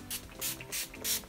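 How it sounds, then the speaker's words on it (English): Urban Decay makeup setting spray spritzed onto a face, four quick, close pump-mist bursts in an even rhythm, each a short airy hiss. "I'm just going to take a touch of my Urban Decay setting spray again. I'm just going to spritz my face"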